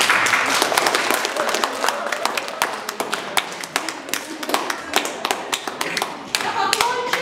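A small audience at a children's storytelling performance claps, sharp separate hand claps at a loose uneven rhythm, close and fairly loud, with no voices.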